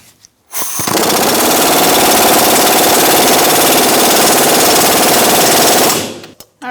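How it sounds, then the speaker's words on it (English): Impact wrench fitted with a 17mm swivel socket hammers out a bolt on the rear shock and spring assembly of a 2002-2006 Honda CR-V, one loud, continuous, rapid rattling burst lasting about five seconds. "I'm using a 17mm swivel. I'm going to take out this bolt."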